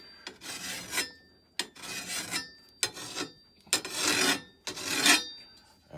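A hand file rasps along the edge of a garden hoe to put a bevel on it, five or six rhythmic scraping strokes, close and fairly loud, each stroke separated by a brief pause.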